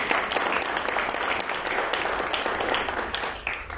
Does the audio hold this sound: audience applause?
yes